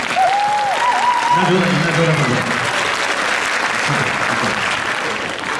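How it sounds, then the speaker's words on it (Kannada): A crowd at a Yugadi cultural event claps loudly in a steady, dense wash of applause that fades slightly toward the end, with a voice audible over it. "ಇನ್ನೊಂದ್ಸಲಿ ಜೋರಾಗಿ ಚಪ್ಪಾಳೆ."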